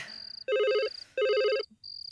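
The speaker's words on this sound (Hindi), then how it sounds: "इतनी रात को कौन फोन कर रहा है यार?" A telephone rings late at night in two long electronic trilling bursts, loud and close, separated by short pauses, with a faint background tone and insect-like chirping between rings.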